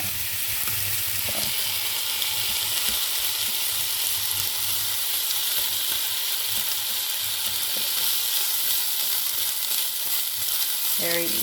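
Rice frying in a pan with sesame oil, giving a steady close sizzle and crackle that runs the whole time, with a few soft stirring scrapes and no talking.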